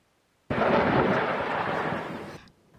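A 2.75-inch rocket fired from an Apache helicopter explodes at a live-fire range, a sudden loud blast that rolls on as a sustained boom for about two seconds before cutting off abruptly.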